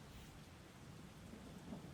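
Steady rain with low rumbling thunder outside in Persona 4 Golden, a faint, even wash of rainfall with a soft distant roll underneath.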